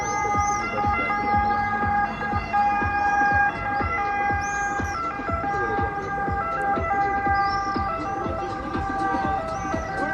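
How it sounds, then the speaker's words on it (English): Emergency vehicle sirens wail through foggy streets in Vasto, Italy, a loud, continuous, sweeping tone that holds steady for the whole stretch, with birds chirping faintly above it. "Sirens ruining it."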